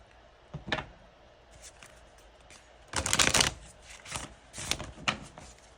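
Tarot cards are shuffled for a pick-a-card reading, with soft taps first and then a dense burst of riffling, followed by a few lighter shuffles. The sound is close but fairly quiet.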